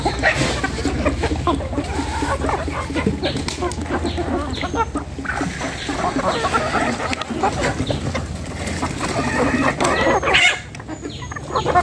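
Backyard chickens clucking and calling continuously at close range in a noisy, busy flock on an overcast day, with a voice briefly speaking among them.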